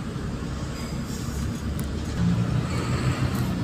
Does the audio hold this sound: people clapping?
no